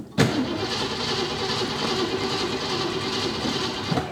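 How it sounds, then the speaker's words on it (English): A junkyard 1966 Ford Mustang V8 cranking with the choke closed, a steady close starter churn with uneven engine chugging that holds for about four seconds, bracketed by sharp clicks at start and end. "Let me see if I can just close the choke, increase the fast idle, and then crank it again."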